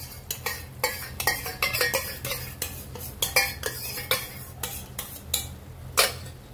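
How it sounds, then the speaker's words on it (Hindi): A spoon works fresh yogurt into paneer curry in a pan with a quick run of scraping, clinking strokes, close and continuous with no talking. "1-2 मिनिटासाठी आपण दही एकजीव होईपर्यंत हलवत राहायचं"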